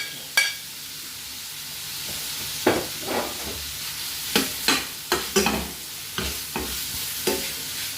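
Vegetables with prawns, ginger and chilli stir-fried in a pan, a low continuous sizzle punctuated by repeated quick scraping strokes that grow more frequent toward the end.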